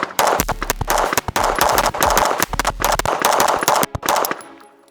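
A Cardinal G2P pistol is fired in a timed draw-and-doubles shooting drill, with many loud, sharp shots close by in rapid bursts and brief pauses between strings.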